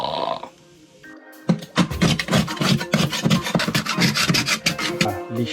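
Hand sanding old paint on a wooden boat with sandpaper, a loud close rasping scrape repeated in quick rhythmic strokes after a brief quiet start.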